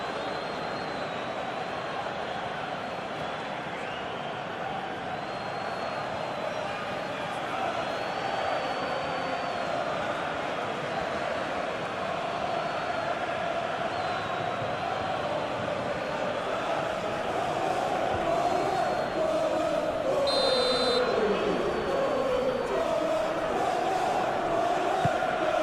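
A stadium crowd applauds and roars in a PES 2021 football match between Bournemouth and Manchester United, a steady dense wash of noise swelling slightly louder toward the end, with commentary voices over it.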